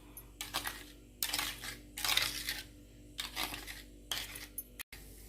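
Sugar being mixed into batter in a bowl, a utensil scraping and clinking against the sides in several uneven bursts of gritty, rattling strokes with short pauses between them, close up and with no talking.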